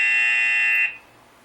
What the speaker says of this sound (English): That buzzer means we're out of time